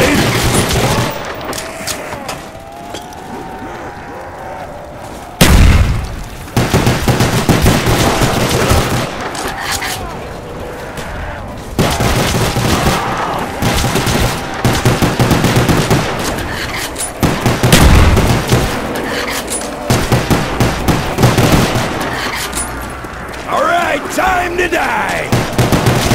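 Loud, sustained gunfire and booms from a Call of Duty: Black Ops zombies fight, heavy bursts broken by brief pauses, with voices shouting over the shooting.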